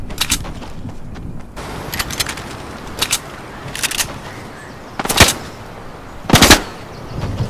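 Gunfire in a shooter video game: several separate short bursts of shots, fairly loud and close, coming in irregular clusters a second or two apart with no talking over them.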